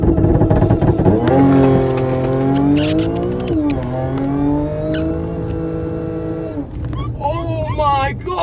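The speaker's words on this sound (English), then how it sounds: "for the first time ever, we're going to be doing a launch control" Audi S5 launch control run, the engine revving hard and pulling through rising gear sweeps with shifts, loud and close from inside the car, with excited voices over it near the end.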